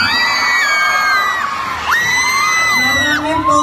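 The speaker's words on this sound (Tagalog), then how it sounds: "Wala po ba palakpakan dyan? Wala rin po ba hiyawan dyan?" A pageant audience at a Miss Gay contest cheering, with loud sustained whoops and shrill high-pitched shouts from the crowd rising and falling over a busy background roar.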